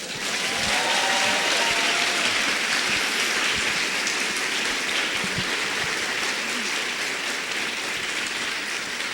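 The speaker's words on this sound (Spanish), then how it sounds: "Entonces, otro pinche aplauso." A lecture-hall audience applauds at a master class, producing sustained, fairly loud clapping with a rain-like texture that carries on steadily for several seconds, with brief faint voices mixed in.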